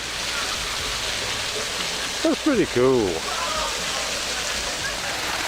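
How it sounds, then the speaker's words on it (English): Steady water pouring from a coanda water feature in a garden, a constant rushing wash heard close, with a brief remark from a person partway through. "It shows the hydrostatic effect of water clinging to a surface before dropping off."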